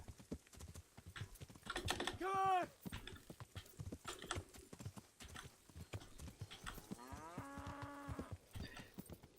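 Cattle lowing in the medieval open-world game Kingdom Come: Deliverance, two drawn-out moos with strong tonal bands, one near and loud and a later steadier one, over rhythmic horse hoof clip-clop and faint tapping.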